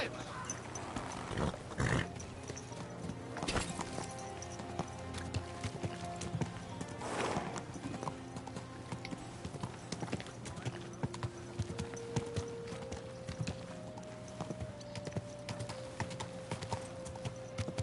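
Horse hooves clip-clop steadily in Kingdom Come: Deliverance II on hardcore mode, a close rhythmic patter over a low game hum, with a voice talking at moments.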